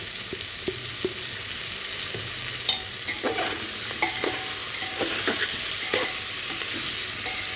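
Spices for vegetable khichuri are stirred in a frying pan, a steady sizzle broken by scattered scraping clicks of the spoon against the pan, with no voices.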